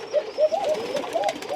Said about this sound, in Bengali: এই যে খাঁচার মধ্যে আটকানো কবুতর দেখতে পাচ্ছেন,